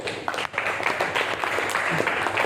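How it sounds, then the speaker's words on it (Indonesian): Classroom applause for a student who answered a question, a dense wash of many hands clapping together at steady moderate loudness, with some voices mixed in. "tepuk tangan."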